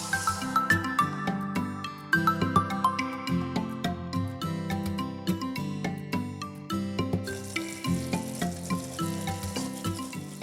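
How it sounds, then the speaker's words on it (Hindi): Sugar syrup for plum preserve cooks on a medium flame while a spoon is stirred through it steadily, giving a soft bubbling sizzle under repeated metallic tinkles and scrapes. "मीडियम फ्लेम पर हम इसको पकाएंगे और मुसलसल इसमें हम चम्मच हिलाते रहेंगे।"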